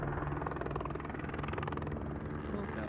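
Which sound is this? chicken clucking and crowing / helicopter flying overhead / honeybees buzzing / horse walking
helicopter flying overhead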